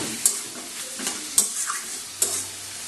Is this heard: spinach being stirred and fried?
yes